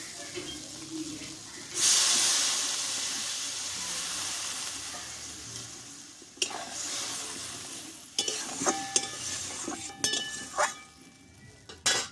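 Water is poured into a hot pan of spiced soya chunks cooked down in masala, producing a loud sizzling hiss that gradually fades, followed by spoon stirring and clinking against the pan.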